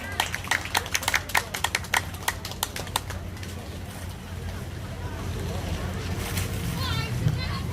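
An audience at a neighborhood residents' assembly claps to welcome a speaker, scattered sharp claps at first that thin out and fade into a rising, steady background of room noise and murmur.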